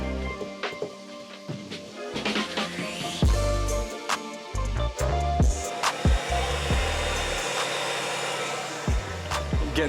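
Steady blowing hum of a heat gun or hair dryer warming new graphics on a dirt bike in cold weather outdoors, running continuously and fairly loud with brief knocks and clatter around it.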